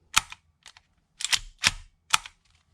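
A Hi-Capa airsoft pistol test-fired after an Edge nozzle install, five sharp snapping shots in an irregular rhythm, close and clean against silence.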